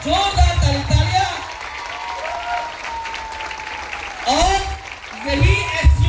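A standing audience claps loudly for an honoree at a Smartvalue business gathering, a dense burst of applause mixed with voices and cheering that dips briefly midway, then swells again near the end.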